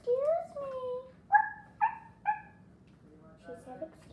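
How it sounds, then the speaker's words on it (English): A dog indoors gives a short series of high yips and barks, about five quick, fairly loud calls with brief gaps between them, followed by softer whimpering sounds. "That was my dog. She just barked."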